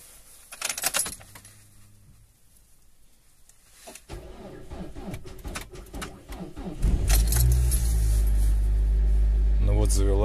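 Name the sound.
car engine starting in severe frost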